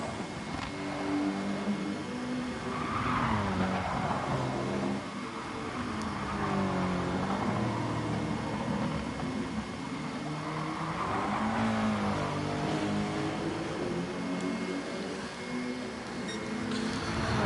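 A race car in a WTCC-style touring car racing video game at Grand Valley, its engine droning and revving continuously and loudly throughout, with a brief scrub against the wall hard to pick out within the engine noise.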